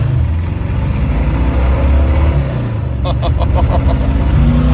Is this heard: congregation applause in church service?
no